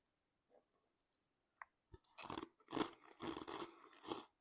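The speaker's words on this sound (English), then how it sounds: "I'm sure you can hear that crunch." Whole freeze-dried cherries are bitten and chewed, giving several loud, close, crisp crunches in quick succession after a few faint clicks.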